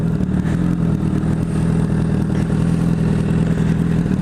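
A Honda CBR1000RR Fireblade motorcycle engine runs with a steady, loud, rumbling drone that holds even throughout, with no voices.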